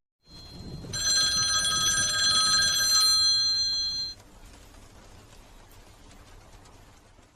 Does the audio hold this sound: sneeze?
no